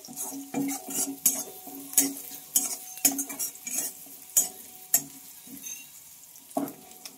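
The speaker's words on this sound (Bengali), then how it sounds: "তো পেঁয়াজগুলোকে একটু লাল লাল করে আমি ভেজে নেব।" Onions frying in a pan to a reddish colour, soft sizzling under sharp metallic scrapes and taps of a utensil stirring against the pan, irregular strokes close up, no talking.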